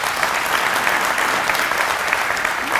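A luncheon crowd at a chamber of commerce business awards event gives a round of applause for a woman-owned business winner, with dense, even clapping filling the room throughout.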